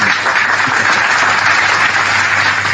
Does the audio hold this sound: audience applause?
yes